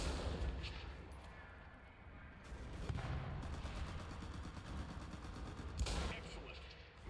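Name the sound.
gunshots echoing indoors in the video game Enlisted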